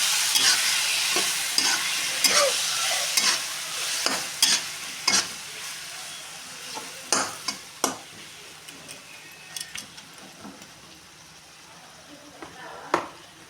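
A spoon stirs potato and cauliflower curry in a pan, giving a series of sharp taps and scrapes against the pan over a soft sizzle, irregular and close, with no talking.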